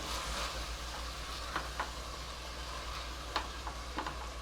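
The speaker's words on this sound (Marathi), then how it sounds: "ही आता परतून घ्यायचं" Mixed pulses khichdi sautéed in a pan, with a steady soft sizzle under a low hum and a few faint scraping stirs of a spoon. No one speaks.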